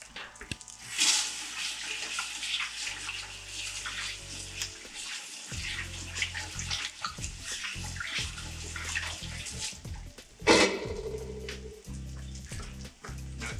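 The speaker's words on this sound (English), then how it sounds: "I'm gonna rinse my hands off real fast." Hands are rinsed under a running tap while making okonomiyaki, giving a steady splashing water stream close up. The pitch changes midway, a louder gush comes near the end, and no one speaks.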